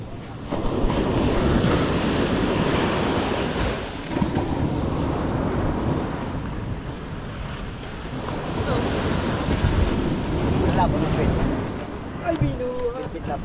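Rough sea waves roll and crash nearby in a continuous heavy roar, with strong wind buffeting the microphone throughout and a brief voice near the end.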